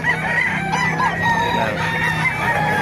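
Roosters crowd a stall at the Bocaue pet market in the Philippines, one crowing loudly and close amid a continuous clucking flock and market hubbub.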